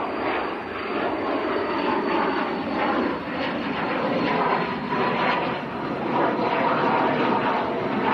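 A German Pilatus PC-24 business jet takes off at Manchester Airport, giving a steady, loud, broadband engine roar that holds for the whole stretch with no voices.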